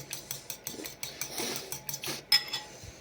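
Eggs being whisked in a bowl for a crisp batter coating bull testicles: rapid, uneven clinks and scrapes of a utensil against the bowl, close and fairly quiet, with no talking.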